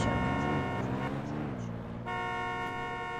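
A car horn honks in long sustained blasts, loud and close, with a short break before it sounds again, alongside a raised voice in a roadside argument.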